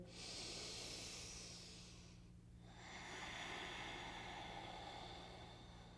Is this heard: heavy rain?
no